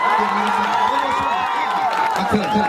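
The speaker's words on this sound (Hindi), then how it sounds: "एक बार जोरदार ताली बजा के बताइए" Audience at a stage show cheering and whooping loudly, with shouts and a general crowd roar carrying on throughout; clapping is not clearly distinct under the cheering.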